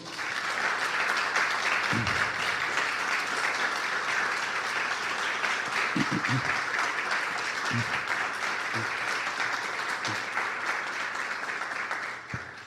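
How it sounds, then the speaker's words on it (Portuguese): A church congregation claps in a sustained, even burst of applause, with a few faint voices rising briefly beneath the steady clapping. "Então eu queria que você aplaudisse ao Senhor."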